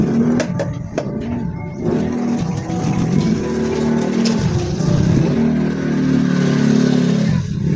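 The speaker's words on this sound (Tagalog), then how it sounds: "Baka may motor." A motorcycle passes close by, its engine revving loudly and sustained throughout, with a few sharp knocks near the start and no talk.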